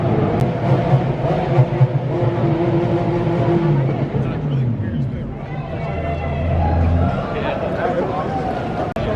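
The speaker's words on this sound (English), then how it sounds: "as you can hear, there's some Aventador revving up there" Lamborghini Aventador revving among a crowd of supercars on a closed Toronto street at the Gumball 3000 rally, loud engine drone and rising revs over general street noise and crowd babble.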